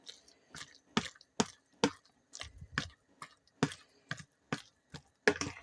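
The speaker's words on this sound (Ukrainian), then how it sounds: "Зараз добре тут масло я додавила, перемішаю гарно" Forshmak, a herring spread, being stirred with added butter: close, wet squishing and tapping strokes in a steady rhythm, roughly a dozen distinct pulses separated by short quiet gaps.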